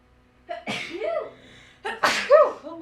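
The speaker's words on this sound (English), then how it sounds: "Sneeze just travelled." Two loud, close sneezes about one and a half seconds apart, each with a sharp breathy burst and a voiced tail.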